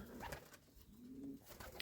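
Sport pigeons in a village loft give a soft, low coo, faint and close, against quiet rustling.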